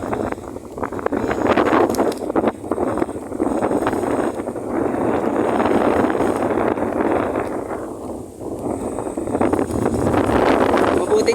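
Strong, steady wind buffets the microphone by the sea, a continuous broadband roar that swells and eases slightly over eleven seconds, with faint voices mixed in beneath it.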